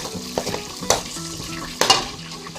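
Red onion tossed into a pan with garlic already browned for sisig, a bright sizzle stirred with a spatula, two sharp scraping clanks standing out over the steady frying.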